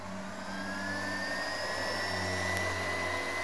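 An electric turbo fan fitted on a Vario scooter whirs steadily with a rising, jet-like whine and deep hum, loud and close.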